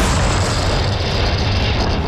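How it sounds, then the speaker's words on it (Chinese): Russian artillery firing shells in the war in Ukraine, heard as a continuous heavy, rumbling roar of booming blasts that runs loud through the whole stretch with no pauses. "俄军士兵快速装填炮弹朝目标发射"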